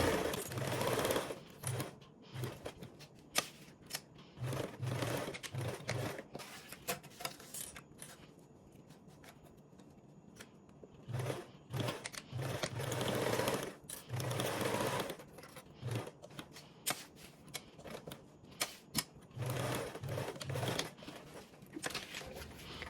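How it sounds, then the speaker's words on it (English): A sewing machine stitches a seam with a 3/8 seam allowance, running in long steady rattling bursts close up, stopping briefly between runs, with no talking over it. "line up my next one with the 3/8 seam allowance and start sewing"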